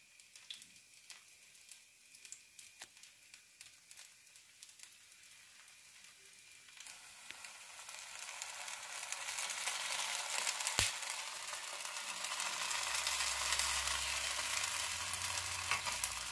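Moong dal chilla batter hitting hot oil in a pan, starting as faint crackles and swelling into a loud, steady sizzle that holds to the end; no talking.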